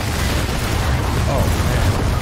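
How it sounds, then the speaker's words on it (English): Missiles launch and explode in Gears of War 4 as a dense, loud roar of blasts and rumbling booms that fills the whole stretch without pause. "Missiles are away."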